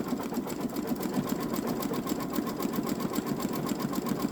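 A Babylock Solaris Vision embroidery machine stitches a gnome design onto a hooped t-shirt, its needle pounding in a fast, even, unbroken rhythm with a steady mechanical whir, close and loud throughout.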